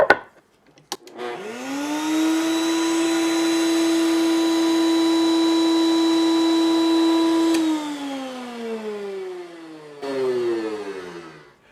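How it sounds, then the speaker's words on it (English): Woodworking router spinning up with a rising whine, holding a loud steady tone while cutting a wooden workpiece, then winding down as it is switched off, with a brief later rise. "You'll note that I shut the router off before I pulled the workpiece out."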